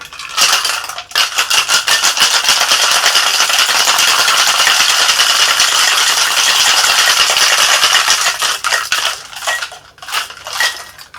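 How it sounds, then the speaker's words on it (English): A cocktail shaker loaded with ice is shaken hard while mixing a bitter cachaça sour, a loud continuous rattling and crunching of ice that runs steadily for about nine seconds before tapering off. "we are gonna shake this with some ice"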